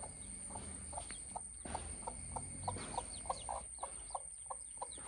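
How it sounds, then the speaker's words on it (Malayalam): A hen clucks in short, evenly spaced calls outdoors, moderately close, while crickets chirp steadily in the background and a few brief rustles occur early on. "അവിടെ ഒരു കോഴിയുണ്ട്."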